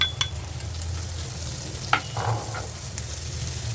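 Minced meat frying in oil with onion and chili as it is stirred, giving a steady close sizzle with a sharp utensil clatter near the middle and soft scraping.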